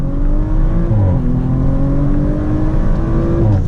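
An Audi RS5 Sportback in Nogaro Blue, running stock map, accelerates hard with a loud, close engine note whose pitch climbs steadily, dips at a gear shift and climbs again.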